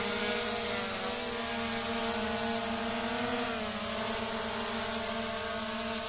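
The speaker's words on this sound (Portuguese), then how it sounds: "Esse aqui é um drone bom e barato para iniciante" An SJRC F11 4K Pro drone hovers nearby with a steady, high propeller whine that dips briefly in pitch midway and then holds, with no talk.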